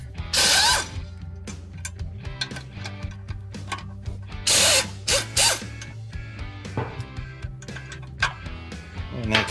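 An impact wrench loosens brake caliper bolts on a Hyundai Santa Fe, with loud buzzing hammering bursts alternating with ratcheting mechanical clatter and metallic clicks, close and busy throughout.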